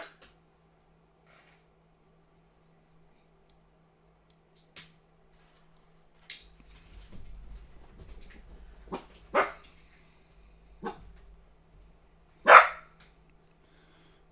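A dog barks a few times at irregular intervals, sharp and fairly close, with quiet stretches between barks and a low rumble in the middle.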